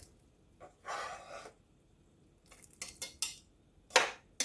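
Ground beef goes into a pan with a series of scattered clinks and scrapes of utensil on metal. A louder clatter lands near the end, and there is no talk.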